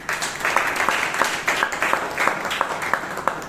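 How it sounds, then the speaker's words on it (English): An audience at a Toastmasters meeting in Bangalore gives a round of applause, with steady, moderately loud clapping of many hands that pulses unevenly for a few seconds. "they deserve a round of applause once again."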